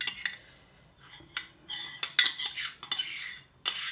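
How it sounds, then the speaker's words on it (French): Melted butter being worked into choux pastry dough with a utensil, giving a run of scraping, clinking strokes against the bowl that come in uneven bursts, close up, with no voice. "On va incorporer le beurre dans la préparation."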